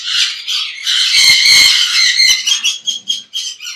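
Budgies and sun conures in a Kolkata breeding aviary fill the air with loud, dense chirping and squawking that runs continuously, then breaks into choppier, separate bursts near the end.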